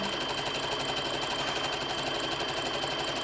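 A home sewing machine stitches fabric for a café curtain in one steady, continuous whir with no talking.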